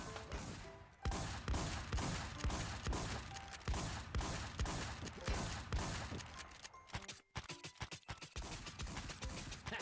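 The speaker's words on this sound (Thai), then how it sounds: "เอ้าทำไมมันยิงยิงกันวะ" Gunfire in a PvP video game rattles as dense, quiet volleys of rapid shots. A brief pause breaks it before more shooting resumes.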